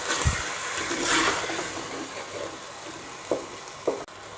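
Round tomato slices drop into a hot pan of qeema, raising a steady broad sizzle with a few soft thuds and utensil knocks near the end, close and fairly loud, with no talking.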